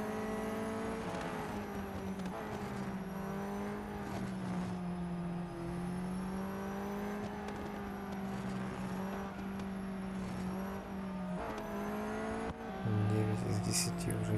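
Mercedes-AMG GT Black Series engine droning steadily at sustained revs in Real Racing 3 during a track day race, with someone talking over it throughout.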